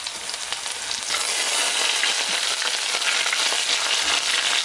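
Ginger and garlic frying in a pan over a medium flame, giving a steady, dense sizzle that grows slightly louder after the first second and carries on unbroken with no voices.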